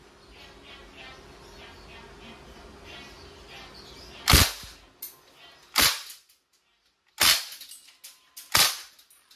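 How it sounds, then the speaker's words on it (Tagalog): KWC CO2-powered steel ball airgun submachine gun firing: after a quiet stretch, four loud, sharp cracks ring out, each spaced a second or more apart. "Full automatic submachine gun firing."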